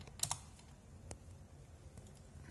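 A computer keyboard during Raspberry Pi setup gives a few isolated, quiet key presses, two quick taps close together and then a single later click, over a faint background hiss.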